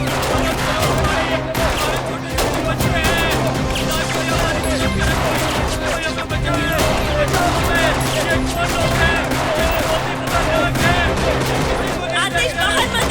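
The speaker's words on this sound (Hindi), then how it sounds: "गोलियां चला रहे, गोलियां चला रहे।" Gunfire in a dubbed Turkish drama rattles in dense, rapid bursts for over ten seconds, with crashing impacts and people shouting over the shooting.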